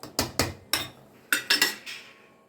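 A metal spoon knocking against a pot of mutton gravy, seven sharp clanks in an uneven rhythm, each ringing briefly before fading, heard close with no talk.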